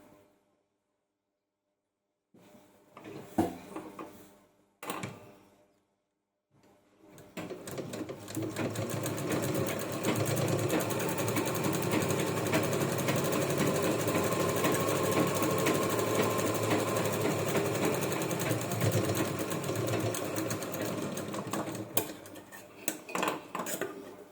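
A sewing machine stitches a bag made from a sari blouse piece, starting with a few short bursts and then running in one long, steady, close-up whir that lasts for most of the clip.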